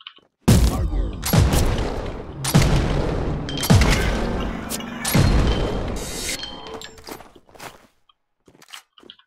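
Gunfire in the video game RICO, several loud bursts of rapid shots with booming impacts, separated by short pauses and fading into scattered quieter sounds at the end.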